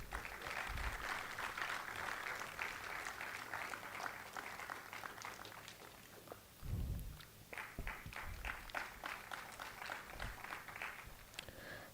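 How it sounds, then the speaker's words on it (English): At a research institute's annual day celebration, an audience gives sustained, fairly soft applause for award-winning scientists, a continuous patter of many hands with a few louder individual claps standing out. "A big round of applause for them."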